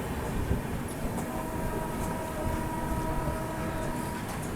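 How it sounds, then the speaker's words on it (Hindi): Samarsata Express passenger train running at full speed on rails, a steady close rumble of wheels and carriage noise with faint rhythmic clatter throughout, heard from inside a crowded train. "क्या दोस्तों ट्रेन एक नंबर की रफ्तार में चल रही है"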